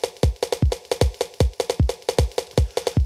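A looping electronic drum pattern built as a Euclidean rhythm of 7 hits spread over 12 steps in Max/MSP repeats quickly, with punchy low thumps and bright clicks in an uneven, syncopated cycle.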